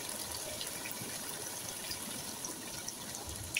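Water is poured into a pot of braised chicken being cooked for biryani, a steady faint splashing gush that runs evenly throughout with no talk.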